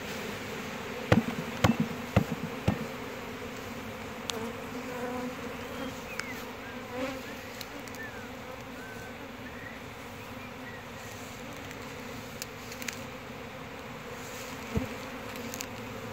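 Honey bees buzz steadily and close during a honey harvest, a dense continuous drone with individual bees passing nearer now and then, plus a few sharp knocks and clicks from hive work.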